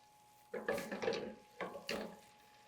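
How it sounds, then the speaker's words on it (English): Alcohol splashed into a hot pan of mushroom scampi sizzles in two strong, crackling bursts that fade away between them. Nobody talks over the cooking noise. "You hear that sizzle?"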